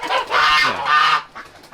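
A Sebastopol goose gives two loud, nasal honks close by, followed by a couple of softer, shorter calls.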